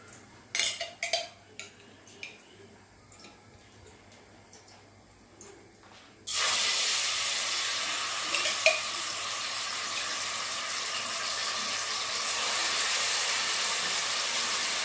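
Tomato sauce goes into a pan of sizzling crispy chicken wings. After quiet clinks, the sizzle suddenly flares into a loud, sustained hiss that continues steadily.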